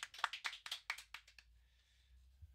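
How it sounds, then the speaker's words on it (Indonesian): About eight quick hand claps ring out at an Indonesian discussion on mosque prosperity, sharp and evenly spaced over a second and a half before fading into quiet room tone. "tepuk tangan guys. Tepuk tangan."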